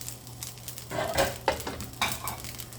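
Fried rice with eggs, Chinese sausage, green onions and snow peas stir-fried in a pan, giving a steady sizzle broken by a few scraping, clattering strokes of the spatula, close up and with no talk.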